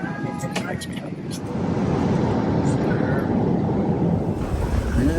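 Inside a passenger airplane cabin in flight, a constant broad roar of engine and airflow builds slightly and then stays steady, with a faint voice buried beneath it.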